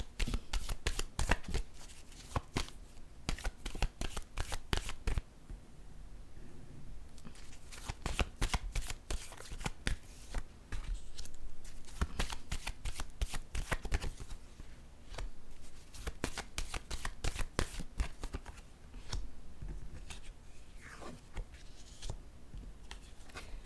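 Tarot cards are shuffled over and over, with dense riffling and crisp flicking that runs almost continuously at close range, with a brief lull around the middle and no clear talking.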